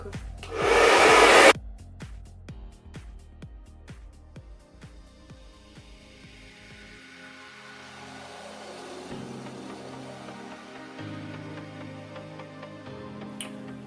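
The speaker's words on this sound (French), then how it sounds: "pendant le sèche-cheveux parce que c'est insupportable" A hair dryer roars loudly for about a second at full blast, then cuts off. Quieter ticking and faint background sounds follow.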